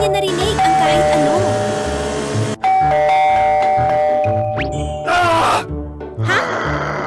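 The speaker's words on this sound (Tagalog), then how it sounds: "Malakas na tumunog ang doorbell sa harap ng bahay." A doorbell at a house's front door chimes repeatedly in sustained melodic tones over a busy backdrop, with a voice talking and groaning at times.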